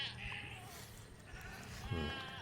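Goats on a farm let out into a shaded spot under a mango tree, bleating faintly at a distance over steady outdoor background noise, with one bleat rising slightly louder near the end.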